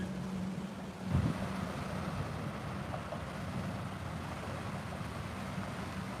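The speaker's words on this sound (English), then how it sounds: "Sound of the waves coming up, so pretty." Waves washing up on a beach near the Mackinac Bridge at 10:30 at night, a continuous broad rushing wash with wind buffeting the microphone, one brief louder thump early on, no talking.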